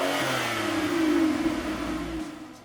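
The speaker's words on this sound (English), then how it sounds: "That noise from 65 to 85, hearing that exhaust note is just absolutely amazing." An Aston Martin Vanquish's 6.0-litre V12 revs and climbs in pitch, a smooth, throaty exhaust note rising then easing off, heard up close with no voices.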